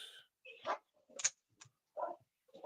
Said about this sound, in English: And they're barking their heads off.